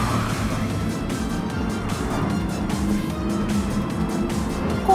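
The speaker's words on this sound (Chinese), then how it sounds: "大直线 Alex 一个猛烈的加速" A race car in Gran Turismo Sport accelerates hard down a long straight at Suzuka, a loud continuous engine roar with rapid gear-change pulses, heard close and alone.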